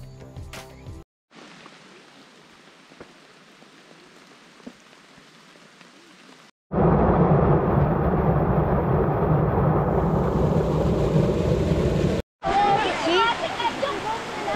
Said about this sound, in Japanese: 大雨ですね。